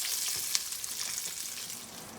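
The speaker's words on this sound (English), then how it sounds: "So we just finished frying our last batch, and I am plating it." Green tomato slices sizzle and crackle steadily in hot oil for a Southern-style fried green tomatoes dish, a close, continuous frying hiss with small pops and no talking.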